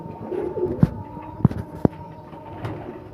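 Pigeons coo inside their coop at night around feeding time, three low, throaty coos rising out of a steady hum of ambient noise.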